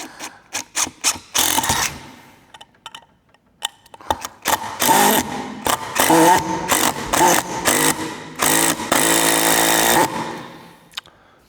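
An entry-level DEWALT drill drives 100 mm 10G screws into wood in repeated short bursts, the motor whirring and the bit slipping and chattering under too much torque, with brief pauses between runs and talk over it.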